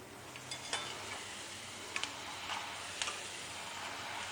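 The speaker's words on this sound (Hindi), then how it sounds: "अच्छा, अब ये फ्राई हो गए हैं" Chickpeas frying in a pan give off a soft, steady sizzle with a few light ticks and clinks from stirring, fairly quiet and close, with no talking.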